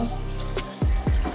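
Water pours into a blender jar over raw oats and other smoothie ingredients, making two short gurgling glugs close by with no talking.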